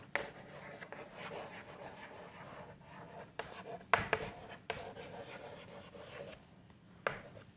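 Chalk or marker scratches across a board during an English lesson for sixth graders, a run of rubbing strokes and sharp taps at moderate distance, no speech over it.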